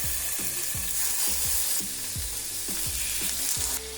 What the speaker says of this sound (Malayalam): ആദ്യം സാൽമൺ ഒലിവ് ഓയിലിൽ വറുത്തെടുക്കാം.